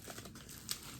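Plastic packaging crinkling as an IPSY Glam Bag is opened, a brief, faint rustle with a sharper crackle near the end.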